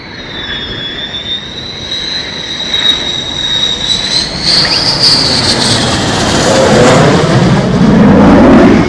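An F-22 Raptor fighter jet flies past with a loud, building roar and a high whine that shifts in pitch, swelling as it nears.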